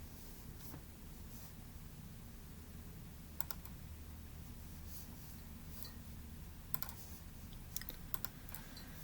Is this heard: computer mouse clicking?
yes